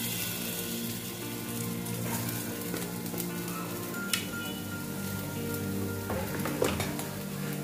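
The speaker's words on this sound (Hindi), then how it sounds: "ऑयल अच्छे से हीट होने के बाद हम इसमें जिंजर और गार्लिक ऐड करेंगे" Ginger and garlic sizzling in hot oil, a soft, steady hiss with faint crackles and a couple of light clinks, fairly quiet and without talk.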